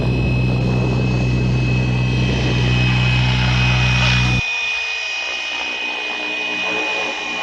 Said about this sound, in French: L'hélico revient.